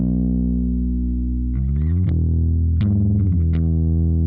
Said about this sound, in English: That's the distortion.